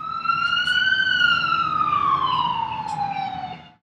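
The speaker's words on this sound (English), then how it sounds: "That's a fire rescue truck going by." A fire rescue truck's loud emergency siren wails in one long sweeping tone, its pitch rising then sliding down as it passes, before cutting off abruptly.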